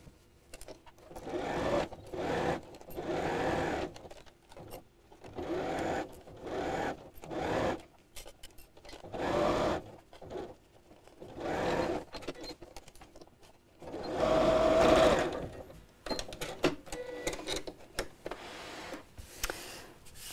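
A domestic sewing machine stitches lining fabric in repeated bursts of rapid mechanical whirring, starting and stopping every second or two, close and steady, with a brief high tone partway through and no talking.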